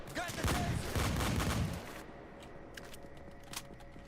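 Akimbo Goliath shotguns firing in a video game, a dense loud burst of rapid blasts for under two seconds, then quieter scattered clicks and pops.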